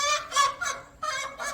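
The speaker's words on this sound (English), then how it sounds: "rarely a quiet moment with chickens" Backyard coop chickens squawk in five loud, harsh, honking bursts in quick succession, close by and with no talking.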